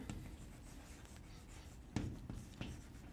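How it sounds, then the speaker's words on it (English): Chalk or marker strokes scratch across a board during a physics lecture on semiconductors, a steady faint rasp with a few sharper taps near the end and no talking. "So let me write that."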